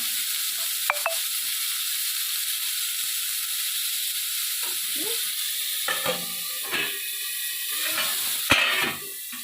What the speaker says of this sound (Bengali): দেখুন বন্ধুরা আমার গাজর আলু ভাজা হয়ে গেছে আমি তুলে নিলাম